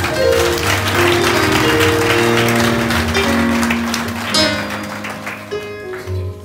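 A church mission-day congregation claps for the Lord in a sustained burst of applause over sustained musical tones, fading toward the end.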